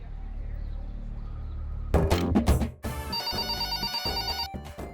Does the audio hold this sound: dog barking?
no